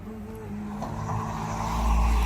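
A car driving past on a street beside a canal, a rising engine and tyre rumble that swells toward the end as it approaches and passes close by, with no voices.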